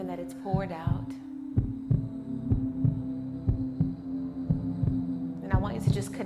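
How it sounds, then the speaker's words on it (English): A slow, steady heartbeat thumps in paired beats over a sustained low hum during a heart chakra meditation, with a soft voice speaking at the start and end. "connect with the sound of this heartbeat, the frequency that is moving through your body right now"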